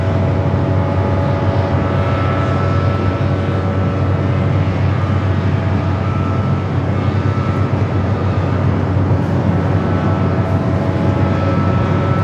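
A Boeing 787 Dreamliner touches down on runway 24 right at Los Angeles airport, a steady, loud broadband roar with a low rumble that holds evenly throughout, heard alone.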